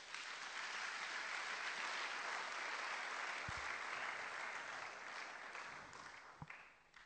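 A church congregation applauds steadily during a French-language worship service, a loud, sustained wash of clapping that holds for several seconds and then gradually thins out.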